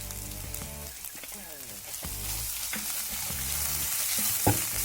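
Onions frying with Kashmiri chilli powder, turmeric and coriander powder for rajma masala, a close, continuous sizzle with irregular stirring clatter against the pan over some tonal background hum, growing a little louder toward the end.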